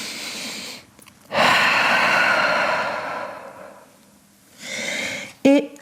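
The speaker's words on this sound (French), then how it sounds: "Et on prend une immense respiration en chien tête en bas." A person holding a downward dog yoga pose during a vinyasa flow draws breath in deep, audible pulls, with a long close inhale and exhale, a pause, then a shorter breath.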